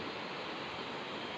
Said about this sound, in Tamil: இங்க அருவி இருக்கு.